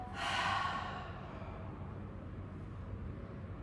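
During a standing yoga pose, one long breathy exhale rushes out near and fairly loud, then fades into quiet room tone, with no talk.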